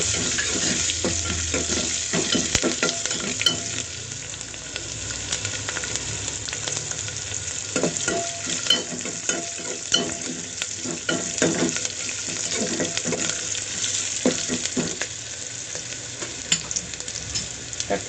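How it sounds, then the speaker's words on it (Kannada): Garlic frying in a tempering of cumin and curry leaves for rasam crackles and sizzles loudly up close, with repeated scraping stirs and sputters throughout and no speech. "ಬೆಳ್ಳುಳ್ಳಿ ಹಾಕೊಳ್ಳಿ ಒಗ್ಗರಣೆಗೆ."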